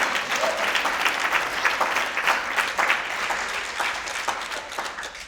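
Audience applause after a personal talk, a dense continuous round of clapping at moderate level with small surges, sustained across the whole stretch without speech.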